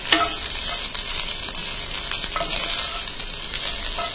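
Chili powder masala fries in hot oil in a pan, giving a steady, close, loud sizzle with a few soft scraping stirs, with no voices.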